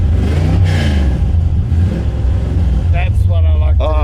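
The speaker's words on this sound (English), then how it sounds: "You got to give it a rev." A 1968 Chevrolet Corvette engine rumbles loudly up close and is revved, its deep roar swelling and falling, with people talking over it toward the end.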